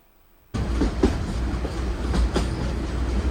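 Narrow gauge train on the Bilimora to Waghai line, a steady loud rumble of wheels on rails starting abruptly, with faint rhythmic clatter and clunks close by.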